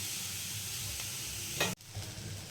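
Vegetable mixture for a bread sandwich sizzles and fries steadily in a hot pan, a continuous close hiss with a brief stirring scrape near the end.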